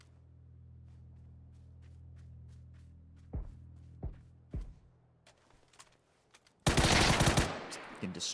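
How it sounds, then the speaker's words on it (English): Gunfire in the PUBG battle royale game: three sharp shots spaced about a second apart, then a dense, loud burst of rapid automatic fire near the end, set over a low steady hum. "Someone's getting shot."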